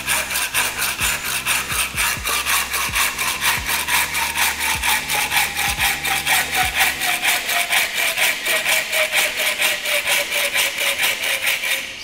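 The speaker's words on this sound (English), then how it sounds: "Kind of the Doppler effect of cutting tubing, isn't it?" A hand saw cuts through integrated bicycle seat mast tubing in steady, rhythmic back-and-forth strokes, close and loud, with the rasping pitch rising in a steady sweep as the blade works deeper.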